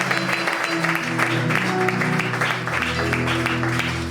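Church congregation applauding at a church launch, a dense steady wash of clapping with a sustained tonal hum or music underneath, continuous throughout and moderately loud.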